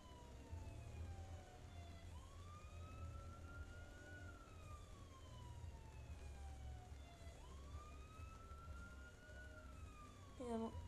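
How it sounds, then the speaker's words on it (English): A police car siren in the video game Crackdown, played with a police mod, wails in long rising and falling sweeps over a steady engine hum, sounding slightly synthetic, with no talking. "Put the siren on."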